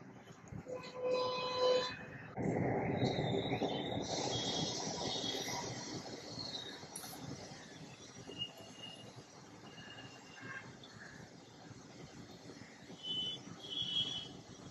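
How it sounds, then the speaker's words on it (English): Subway Surfers mobile game sounds playing on a phone, a noisy train-like rumble with swooshes, chimes and bright pickup tones over continuous background game music, fairly faint throughout. "Now let's move on to Subway Surfers."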